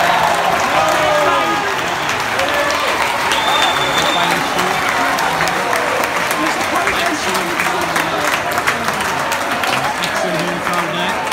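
A home crowd at a Newcastle versus Sunderland under-23 football match applauds in a steady, loud roar of clapping that carries on without a break, with general crowd murmur and a few cheers mixed in.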